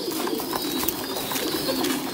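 A flock of Thai Titan pigeons cooing in a farm loft, soft continuous low coos blending over steady background hiss, moderately close.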